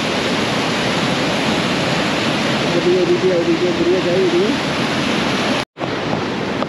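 Steady roar of the Panimur waterfall in Dima Hasao, Assam fills the air close by, while someone speaks briefly over it before a momentary cut.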